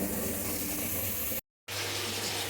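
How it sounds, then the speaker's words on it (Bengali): Tap water running steadily into a cooking pot for rice in a home kitchen, a close, even rushing hiss that cuts out briefly partway through and then resumes. "এই যে জল ভরছি গাম হাঁড়িতে ভাত বসাবো"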